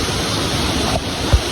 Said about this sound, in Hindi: ये वाटरफॉल का है